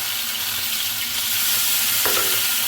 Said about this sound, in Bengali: ভালোভাবে মশলাটাকে একটু তেলের মধ্যে ভেজে নিব